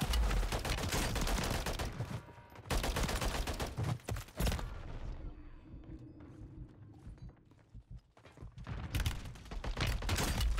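Enemy gunfire in the shooter Warzone, heard as loud, rapid bursts of shots separated by short lulls, with a quieter gap in the middle before the firing resumes.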